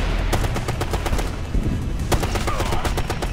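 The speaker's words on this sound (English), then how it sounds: "Oh crap, crap, that's an auto turret!" An automated turret in a Ghost Recon Future Soldier co-op mission fires sharp, rapid bursts of gunfire close by, loud and continuous over a low rumble, with a voice talking underneath.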